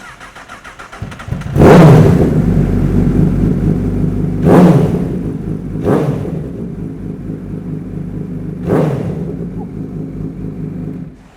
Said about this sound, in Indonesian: Tapi rasanya nggak afdol ya kalau kita nggak dengerin suara Akrapovic-nya.